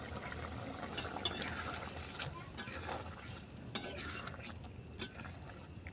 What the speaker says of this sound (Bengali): গরম মশলা ভালো করে মিশিয়ে নিলাম